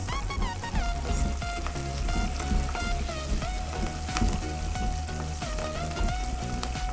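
Curry leaves hiss and crackle in hot oil with green chilies and garlic for a bitter gourd pickle, a loud, dense, continuous sizzle that runs the whole time over a faint tonal backdrop.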